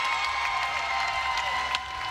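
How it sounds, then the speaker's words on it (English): A crowd at a women's timbersports championship applauds and cheers a new world record, steady and moderately distant, with a brief burst of louder cheering near the end. "Big round of applause, the new world record"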